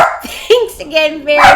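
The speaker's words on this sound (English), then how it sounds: "That's my dog." A pet dog barks a few short times in an indoor setting while people talk over it, the barks mixed in and partly masked by the conversation.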